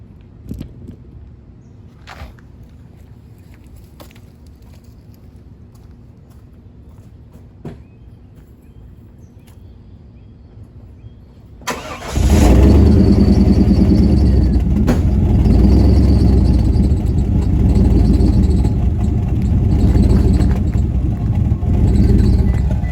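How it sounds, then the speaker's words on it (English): A two-door car's engine cold-starts about midway, jumping from quiet surroundings to a loud, steady, deep idle rumble that carries on to the end. "let me give you a cold start so you'll know what I'm talking about."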